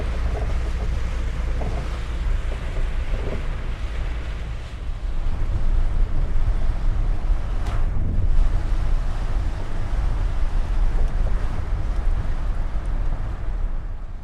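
A heavy downpour hammers a car driving the road between Prachin Buri and Nakhon Nayok in Thailand, a dense, continuous roar of rain and road noise growing slightly louder midway.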